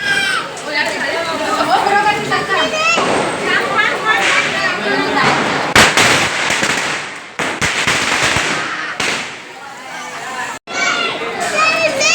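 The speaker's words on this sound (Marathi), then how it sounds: "त्याच्यामध्येच आम्ही फटाके फोडणार आहेत" Firecrackers go off during a Diwali celebration at home with rain falling outside, sharp bursts and crackles scattered through loud, continuous chatter of adults and children nearby.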